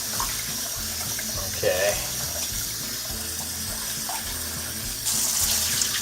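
Tap water runs steadily into a sink while short grain rice is rinsed for musubi, a continuous splashing hiss with a faint brief voice near the start and a brighter, louder gush toward the end.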